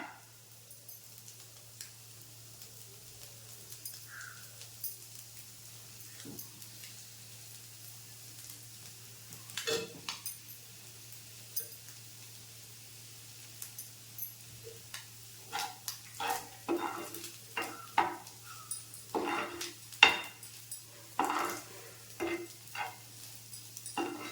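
Spinach and egg frying in a pan while being stirred, starting as a faint quiet stretch and then a run of close scraping and tapping strokes that grow busier and louder over a low sizzle.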